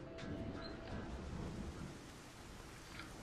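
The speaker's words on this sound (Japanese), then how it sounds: "すごい雨降ってますよ。" Heavy rain and rumbling thunder in the video game Saints Row: The Third, a steady dense downpour hiss with low rolling thunder throughout, no talk.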